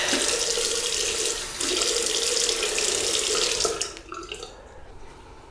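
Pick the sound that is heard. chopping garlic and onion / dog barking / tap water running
tap water running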